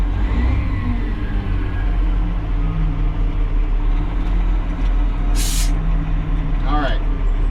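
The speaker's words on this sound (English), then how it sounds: "Take the air brakes off, and off we go." An M-B airport runway broom truck releases its air brakes with a sharp hiss, then its engine hums and rises steadily as it pulls away, loud and close throughout.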